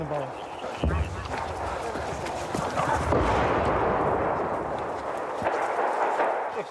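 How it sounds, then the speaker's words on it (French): Combat with Ukrainian commandos: dull thuds of artillery fire and automatic grenade launchers booming at a distance, with a continuous rumbling wash between the blasts and faint voices underneath. "On entend les armes à sous-munitions, les tirs d'artillerie."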